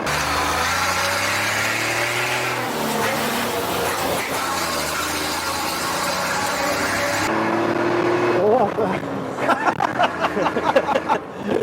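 Classic Ford D1210 truck engine revving with a loud exhaust, close by, a steady rumbling drone that swells toward the end into a string of sharp bursts. Voices can be heard faintly in the background.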